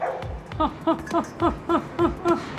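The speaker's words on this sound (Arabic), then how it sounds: "صراحة بلاكي أكثر كلب في الملجأ، أنا وياه صار بينا تناظر" A shelter dog barks repeatedly at feeding time, roughly seven sharp, evenly spaced barks with whiny, yipping tones, close and fairly loud, with no talk over it.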